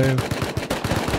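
LMG light machine gun firing in the survival video game Rust, a rapid burst of closely spaced shots in quick rhythm, loud and continuous across the short moment.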